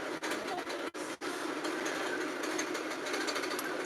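A sewing machine runs a serpentine stitch across a quilt, a close, steady mechanical hum interrupted by two or three very brief pauses early on, then continuing evenly.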